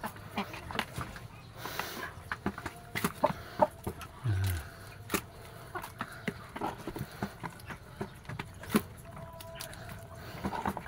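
Free-range village chickens cluck in short, irregular bursts near feeding time, with occasional clatter and knocks around them and a faint voice in the background.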